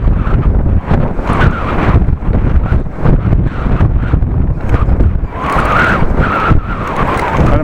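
Very heavy wind buffeting a microphone while riding a bike outdoors, loud and continuous roaring gusts with sharp surges and dropouts close to the mic.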